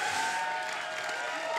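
Studio audience applause on a Ukrainian televised singing contest show pitting X-Factor stars against Voice of the Country contestants, a steady dense wash of clapping with no gaps throughout.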